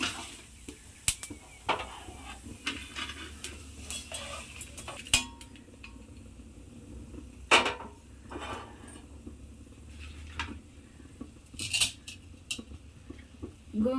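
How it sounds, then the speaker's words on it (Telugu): Ingredients stirred and fried in a pan for gongura chutney, with close metallic scrapes and clinks of a spoon against the pan in an irregular rhythm over a faint low background, with no talk. "ఇవి మాడిపోకుండా బాగా వేయించుకోవాలి"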